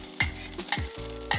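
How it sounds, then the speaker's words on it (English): Eggs poured into a hot pan for an egg sandwich, with a soft steady sizzle running under a few sharp clinks and scrapes of a utensil against the pan, close and fairly quiet. "You're just gonna pour the eggs straight on hear that nice sizzling noise."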